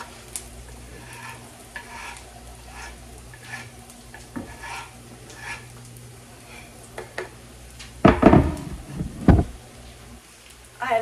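Garlic and leftover vegetables stirred in a hot, freshly seasoned pot, a soft sizzle running beneath scraping spoon strokes, with a louder clatter of utensil against the pot near the end.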